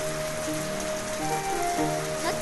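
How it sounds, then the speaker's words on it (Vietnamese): Heavy rain falls in an animated cartoon, a steady hiss of drops hitting surfaces, with faint tonal sounds underneath and no talking. "Trời ơi, mưa to thế này mà về thì thảm lắm"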